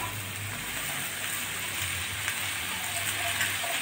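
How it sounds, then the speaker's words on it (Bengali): Bitter gourd and potato pieces go into onions frying in hot oil in a pan, giving a steady, close, hissing sizzle that runs evenly without a break. "পেঁয়াজগুলো একটু নাড়াচাড়া করে নিয়ে উচ্ছে আলুগুলো দিয়ে দিচ্ছি"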